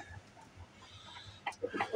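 Hens cluck softly nearby in short, scattered bursts over a quiet outdoor background, growing a little busier toward the end.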